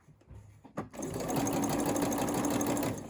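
A sewing machine starts up after a few faint clicks and runs at a steady, even stitching rhythm while hemming a summer dress, close and clear with no talk.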